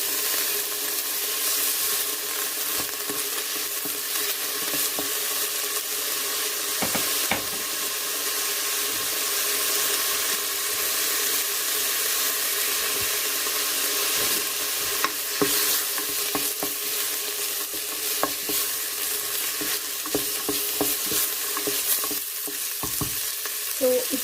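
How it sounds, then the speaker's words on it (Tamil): Mutton fat sizzling and frying steadily in a hot pan, a constant crackling hiss with occasional stirring scrapes, close and fairly loud, with no talking. "ஸோ இந்த கொழுப்பை மட்டும் போட்டு வதக்குவோம்."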